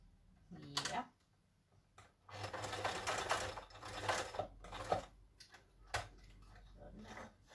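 Sewing machine stitching in short loud bursts with brief pauses between runs, close by, while a person talks in Danish between the bursts.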